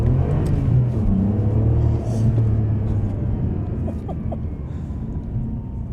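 A Ferrari 575M engine rumbles low and steady while driving, with a brief blip in revs as a gear is matched, heard from inside the cabin at a moderate level with faint wind noise.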